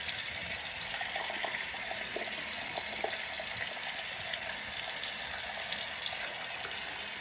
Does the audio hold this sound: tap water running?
yes